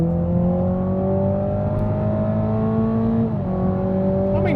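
A Toyota GR Supra accelerates on a track. Its engine drone climbs steadily in pitch, dips briefly at a gear change, then keeps rising, with no talk over it.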